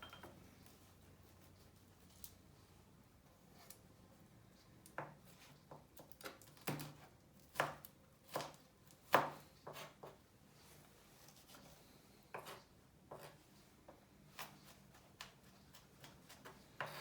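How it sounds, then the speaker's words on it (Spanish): A knife taps against a cutting board while food is chopped finely, quiet irregular clicks that come in short bursts. "Repicamos hasta que queden finos"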